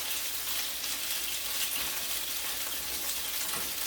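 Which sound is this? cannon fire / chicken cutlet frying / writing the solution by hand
chicken cutlet frying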